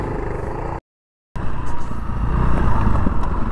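Honda CRF300L motorcycle engines roar and rev, cut out briefly to silence, then return louder as the bikes pull away.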